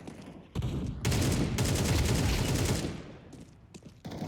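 Rapid gunfire in Counter-Strike 2 comes in close, loud bursts: a short volley, then a sustained stretch of automatic fire, trailing off into a few scattered single shots.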